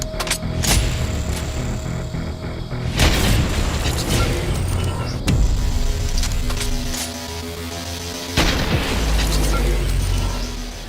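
Heavy sniper rifle shots in a video game, a few loud booming blasts spaced several seconds apart over a dense background of game noise.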